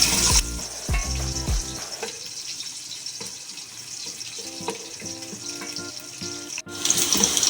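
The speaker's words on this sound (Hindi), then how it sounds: "प्याज शामिल करके 1 मिनट के लिए इसको लाइट ब्राउन कर लें।" Onions fry in a pan until light brown for an aloo keema dish, with a strong sizzle at first that settles into a steadier crackle, punctuated by stirring scrapes and a short sharp knock near the end.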